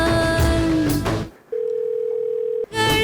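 A steady single tone of a telephone call sounds clearly for about a second in a quiet gap between louder stretches of other sound at the start and end.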